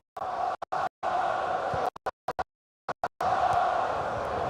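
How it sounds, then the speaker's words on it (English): Stadium crowd at a Chelsea vs Arsenal Carabao Cup match, a steady broad murmur of many voices at moderate distance, broken repeatedly by brief hard cuts to silence. "those substitutions for Arsenal just liven the crowd up a little bit"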